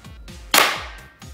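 An airsoft pistol fires and the pellet strikes a homemade target made from recycled material: a single sharp, loud crack with a short fading tail over faint low background noise.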